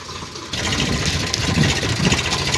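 A tractor engine runs on a farm, quiet at first and then rumbling louder and steadily after about half a second, a mid-pitched mechanical drone.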